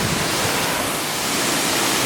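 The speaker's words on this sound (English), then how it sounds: "This is the best waterfall I've seen here in Victoria by miles." Mackenzie Falls in Victoria roars as a steady, dense broadband rush of falling water, close and loud and unbroken throughout, with no voices.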